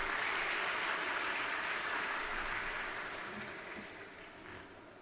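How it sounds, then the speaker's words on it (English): Applause from a large crowd at a university golden jubilee celebration, a steady wash of clapping that gradually fades over several seconds. "Let's give a round of applause."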